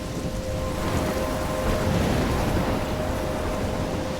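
In the video game Life Is Strange, heavy rain in a thunderstorm roars as a dense, steady wash, with low thunder rumbling beneath it throughout and no voices.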